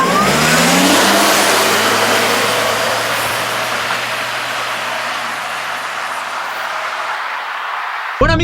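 A Suzuki Swace hybrid car accelerating while driving, its engine note rising loud and close over a steady road roar that eases slightly, then cuts off abruptly at the end.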